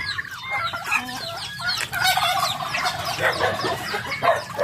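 Backyard chickens cluck busily while a rooster crows among them, a lively nearby flock with no speech.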